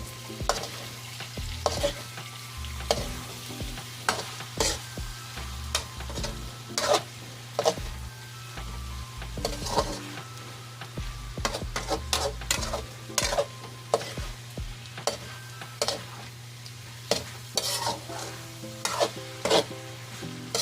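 Pork with tomato, onion, chili and shrimp paste is stirred and fried in a pan, a soft, steady sizzle under repeated sharp scrapes and clacks of a utensil against the metal, irregular and close, with no one speaking.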